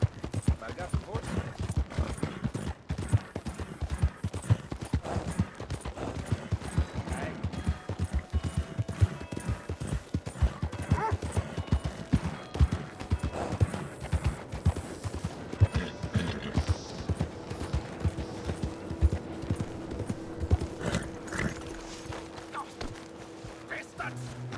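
Horse hooves clip-clopping in Red Dead Redemption 2, a busy, continuous patter of steps mixed with other game sounds and brief bursts of noise over roughly twenty-five seconds.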